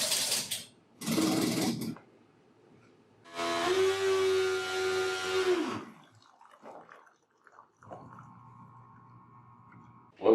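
A coffee machine runs its rinse cycle, giving a pump hum with steady whirring tones and short bursts of hiss and gurgle between quieter pauses. A steadier mechanical drone comes near the end.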